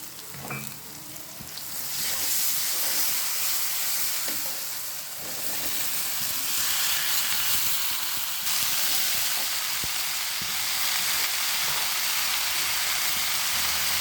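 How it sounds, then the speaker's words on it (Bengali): Ginger-garlic paste sizzles steadily in hot oil in a pan of yardlong bean and potato bhaji, a dense, continuous frying hiss with faint stirring scrapes running throughout, close and loud with no voice. "এখন দিয়ে দিচ্ছি আদা রসুন বাটা।"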